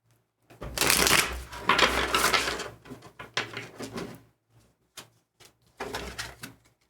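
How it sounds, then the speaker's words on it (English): Tarot cards are shuffled by hand close by in several bursts of crisp riffling and flapping separated by short pauses. "Let's shuffle your cards here."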